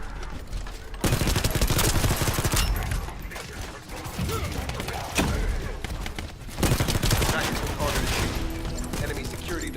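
Gunfire in the video game Warframe rattles loud and close in dense rapid volleys, continuous bursts of shots that break off briefly twice and then resume.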